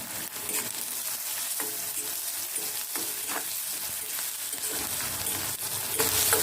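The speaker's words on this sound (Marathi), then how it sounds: "आणि आता कांदा देखील आपल्याला सोनेरी कलरचा होईपर्यंत पण परतवून घ्यायचा आहे." Onion, garlic and chili sautéing in oil, a continuous moderate sizzle broken by regular scraping stirs, growing slightly louder near the end.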